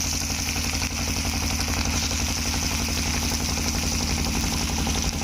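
A boat engine running steadily as the boat passes on a river, a continuous mid-to-low motor drone with a rhythmic throb that stays loud and even throughout, with no talk over it.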